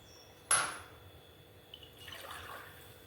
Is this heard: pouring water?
yes